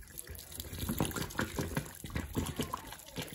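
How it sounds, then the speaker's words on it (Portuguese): Hot water being drained from a cooking pot into a sink, splashing and gurgling pours in uneven surges, close by, with some background noise. "vou estar retirando a água"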